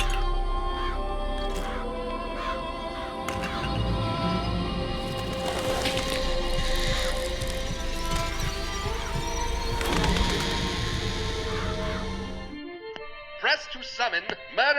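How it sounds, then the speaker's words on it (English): Murderous crows vigor in the BioShock Infinite video game, a dense, continuous wash of flapping and shrieking crow sounds with layered game effects and a steady loud level, cutting abruptly to sparse bursts near the end. "Press to summon murderous crows."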